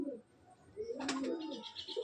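Pigeons, Punjabi breeding females, coo softly in a loft, the low throaty calls rising mid-clip over a faint background chirping, all quite near.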